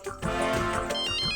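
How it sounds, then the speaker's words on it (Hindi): Phone ringtone for an incoming call in a Hindi TV family comedy: a melodic electronic tune that starts after a brief pause and plays steadily and fairly loud to the end, no one speaking over it. "आया आया, माया का फोन आया।"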